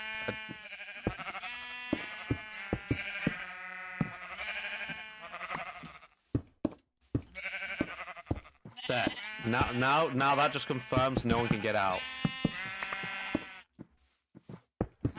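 Sheep bleat in a video game, several repeated calls with one long wavering bleat near the middle, mixed with someone talking.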